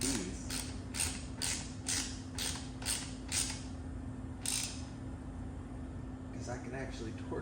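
A ratchet tightens bolts on an LTZ400 ATV being readied for a cross-country race: a run of about ten quick, close clicking strokes, a pause, then a few more, over a steady low hum.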